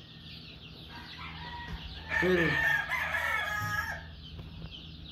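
Roosters and chickens on a farm, one rooster crowing loudly and close amid background clucking, with a brief spoken word from a person.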